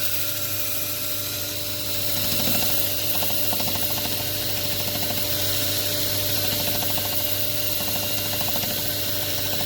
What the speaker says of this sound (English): So sanding, mostly will be power sanding for this one